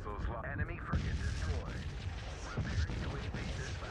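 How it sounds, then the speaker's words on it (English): Spaceship battle explosions from the sci-fi fleet game Infinite Lagrange, with plasma bombers striking enemy ships during a city siege: a dense, continuous rumble of blasts and crashes with several heavier booms, running under excited talk. "It's all exploding!"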